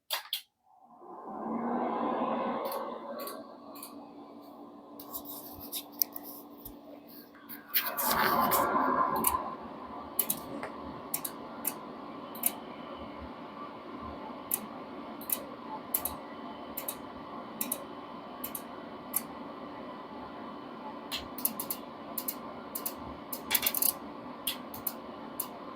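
A signal generator boots up after power-on, a relay clunk followed by a long run of sharp, scattered relay clicks over a steady hum, some single, some in quick pairs, close and fairly quiet.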